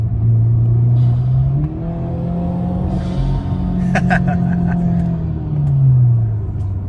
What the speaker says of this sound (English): Plus the transmission just shifts so fast.